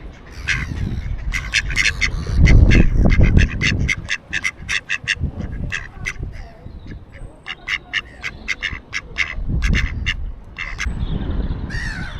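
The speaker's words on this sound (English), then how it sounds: "Yeah, and there's ducks." Ducks quack repeatedly and loudly nearby at a riverside parking area, a busy chorus of calls over low rumbling and wind-like noise.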